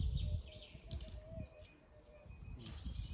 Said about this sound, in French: Les oiseaux que vous entendez là